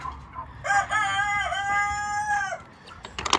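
A rooster crows once, a drawn-out, close call lasting about two seconds, with quiet farmyard background of a poultry coop around it.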